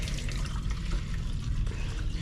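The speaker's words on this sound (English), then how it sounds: "try not to spill too much water" Water pours steadily from a watering container onto carnivorous plants during gardening, a close, continuous splashing and trickling with no speech over it.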